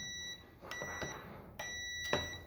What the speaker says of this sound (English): it's going to beep when we touch the leads together